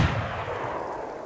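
A single gunshot in DayZ, a muffled distant crack with a short rolling decay, heard alone.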